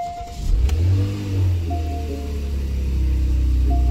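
A Porsche Cayenne's engine turns over and revs loudly up close, with a low, rumbling note that climbs and falls through a couple of throttle blips before settling into a steady idle.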